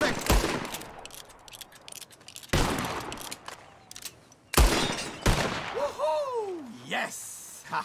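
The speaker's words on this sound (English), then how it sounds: "Whoever shoots more of these bottles wins." Revolver shots crack out one by one at bottles in a shooting contest in the Western video game Red Dead Redemption 2, sharp and loud, followed by glassy ringing and game voices talking.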